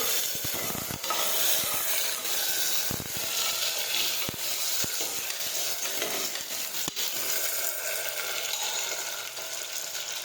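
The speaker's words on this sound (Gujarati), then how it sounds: "સમારેલા બટેટા નાખીશું. હવે આપણે તેને સાતળી લઈશું." Chopped potatoes sautéing in hot oil with mustard seeds and cumin give a steady sizzle with occasional stirring scrapes and small clicks throughout.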